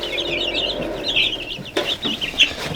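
Nearly feathered-out chicks in a brooder with a heat lamp and plate heater, giving a busy stream of soft clucks and chirps, close up, with a few sharper peeps near the end and no talking.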